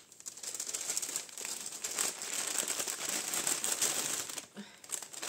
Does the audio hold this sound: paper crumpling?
yes